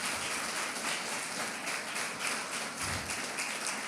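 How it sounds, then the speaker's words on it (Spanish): A church congregation claps together, a steady, dense patter of many hands filling the room for the whole stretch, moderately loud and continuous with no pauses. "Un aplauso a Dios por eso"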